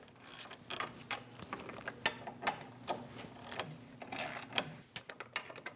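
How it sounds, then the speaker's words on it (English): A 21mm socket on a ratchet works the caliper bracket bolts of a 2001-2006 Chevrolet Silverado 2500, giving close, quiet metallic clicks and creaks in irregular bursts with no talking. "we're going to remove our two caliper bracket bolts using a 21mm socket"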